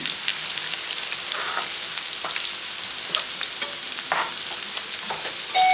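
A prawn chop mixture stirred and fried in a pan over lowered heat: steady sizzling hiss with soft scraping strokes of the spoon throughout, close and fairly loud, with no talking.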